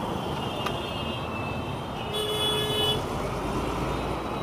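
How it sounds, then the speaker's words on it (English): Car horns toot over a steady roar of Mumbai traffic heard from a bicycle, one honk sustained briefly in the middle, with vehicles droning close by. "People are honking for no reason."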